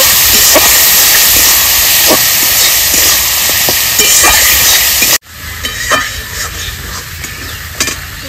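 Spices and masala with salt, turmeric, dried chili paste and a little water sizzle and hiss in a pan for a country duck curry, a steady loud frying that cuts off sharply and continues quieter with faint clinks.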